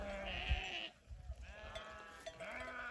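Sheep and lambs bleat repeatedly in overlapping, wavering calls, several animals at moderate distance on a mountain pasture at 2400 m altitude, with a brief lull in the middle.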